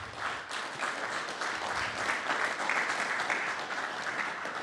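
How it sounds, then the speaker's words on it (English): An audience at an anniversary celebration and awards presentation applauds the MC with a full, steady round of clapping that swells slightly and holds at moderate loudness, with no voices heard. "I want to give one last round of applause to Chris for doing a great job as our MC"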